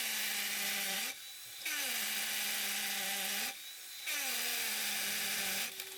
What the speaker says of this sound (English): moving the drill up and down allows the dust to come out of the hole